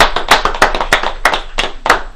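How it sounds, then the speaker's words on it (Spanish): A few people clap for a grill cook at an outdoor barbecue, loud close handclaps in an uneven rhythm of roughly a dozen sharp strikes over two seconds. "se merece el aplauso para el asador"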